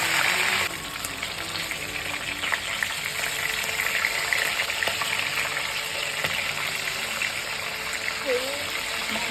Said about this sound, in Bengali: দিয়ে দিলাম সর্ষের তেল, কারণ আমি ইলিশ মাছটা প্রথমে ভেজে নেব।